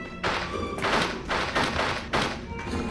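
Pistol shots from the video game You Are Empty, a series of sharp, loud reports spaced roughly half a second apart, each with a bright burst and short decay.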